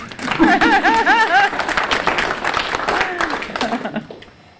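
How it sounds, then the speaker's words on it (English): Audience applause after a talk on Mennonite conscientious objectors, a loud burst of clapping mixed with chuckles and voices that gradually fades out. "I think we should give you a round of applause."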